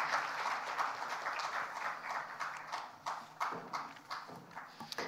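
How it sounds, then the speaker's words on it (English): An audience at a teen hero award gala in Nepal claps in a dense, sustained wash of applause as guests walk to the stage, moderately loud and steady throughout. "Let's welcome them with a huge round of applause as they make their way to the stage."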